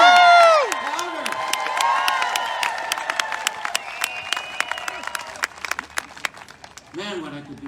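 A health care rally crowd cheers, whoops and applauds, with loud shouting early that gives way to scattered clapping and voices toward the end.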